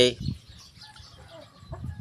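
A chicken clucks in short low bursts close by, with a brief pause and then another cluck near the end.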